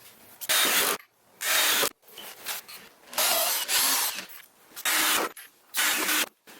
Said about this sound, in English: I'm going to throw a couple more screws in here where this beam comes across.